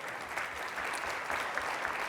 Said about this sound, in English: Round of applause for these two.